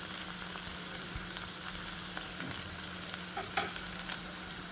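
Okra curry is stirred in a frying pan, with a steady soft sizzle and scraping stir strokes running throughout, close and alone with no voices.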